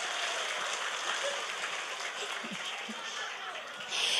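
An audience at an Islamic lecture in Indramayu applauds in a continuous, fairly distant wash of clapping, with scattered voices underneath and a slight swell at the end.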